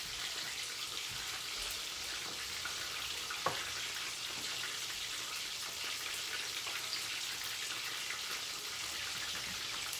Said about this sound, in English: Yeah, it's frying up pretty well.